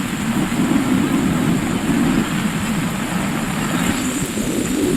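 Heavy rain pours down steadily over a flooded village settlement, a dense continuous wash of water that stays loud and unbroken throughout.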